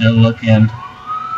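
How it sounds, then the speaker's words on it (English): Police car siren sounding inside a video game, a rising wail near the end following a short spoken phrase over game audio. "Should probably not turn your siren on. I can hear it."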